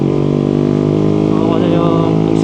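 A Yamaha Sniper 155 motorcycle with a super-stock setup and large wheels runs at a steady, loud engine drone during a long ride, a constant buzzing hum throughout.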